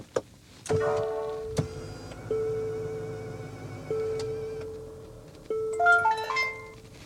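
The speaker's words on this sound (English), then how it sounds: "you're going to have a lot of different tunes you're going to hear when we fire it up" A 2025 Infiniti QX60 Autograph's dashboard sounds a series of electronic chimes and beeps at startup, sustained tones changing pitch, ending in a quick rising melodic jingle.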